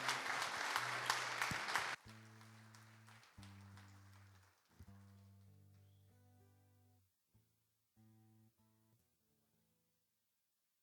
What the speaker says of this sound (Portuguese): Vamos dar a Deus uma grande salva de palmas essa noite